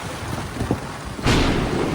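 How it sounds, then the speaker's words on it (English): Heavy rain pours down at a remote campsite at Kgari Creek on Fraser Island, a steady loud wash that swells sharply into a harder downpour partway through, with no voices. "it's been pissing rain"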